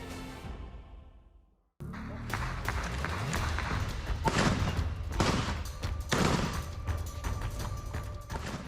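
A rapid burst of sharp gunshots follows a brief drop to silence, the cracks echoing loudly over a busy, noisy background, during a Hamas attack in Israel.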